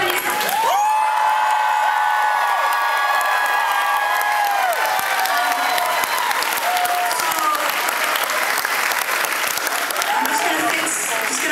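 A concert crowd at Town Ballroom in Buffalo applauds and cheers for a band, loud sustained clapping with whoops, heard as the music cuts out and continuing steadily throughout.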